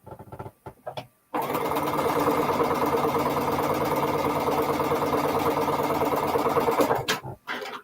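A sewing machine chain pieces quilt fabric in one steady, fast, close whirring run of about six seconds, bracketed by brief handling clicks before and after.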